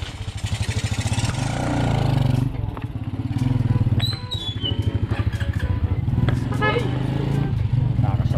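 A motorcycle engine putters steadily at close range, with a low rhythmic throb and some clattering, running continuously throughout.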